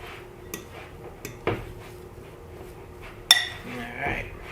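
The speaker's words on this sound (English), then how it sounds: "Using a fork because it's easier to get that brown sugar broken up" A fork scrapes and clinks against a bowl while brown sugar is mixed and broken up, a few sparse taps and one sharper clink, close and moderately loud.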